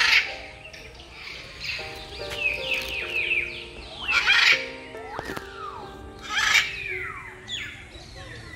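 Macaws and assorted other birds call at a picnic spot, repeated squawks and chirps rising and falling over a soft background with several overlapping calls.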